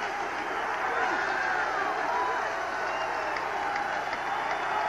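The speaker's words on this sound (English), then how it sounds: "Pretty good sized little crowd here at Nickerson Field, making some noise" A modest stadium crowd at Nickerson Field makes steady noise during a 1983 USFL football game between the Philadelphia Stars and Boston Breakers, a continuous distant roar with a commentator talking over it.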